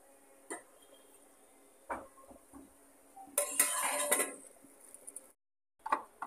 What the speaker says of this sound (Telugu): మూత పెట్టుకోవాలి.